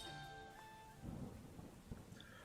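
Thunder rumbles low and close on a rainy night in the Wargroove game at Cherrystone Castle, a heavy rolling crack swelling midway over steady rain hiss, with a second lighter rumble near the end.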